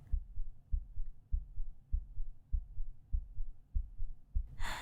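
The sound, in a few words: heartbeat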